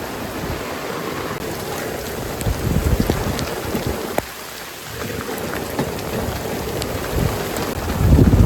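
Steady rain falls on a 9-metre sailboat, a dense close patter on the deck with a low rumble of thunder and louder gusts toward the end.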